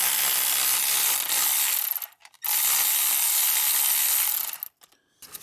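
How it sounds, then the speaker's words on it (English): A ratchet wrench backs out the bolts holding the starter on a 2011 Hyundai Sonata. Rapid, close mechanical clicking runs in two long bursts, split by a short pause and ending in a few brief spurts. "So I'm gonna remove these two bolts so that we can get the starter out."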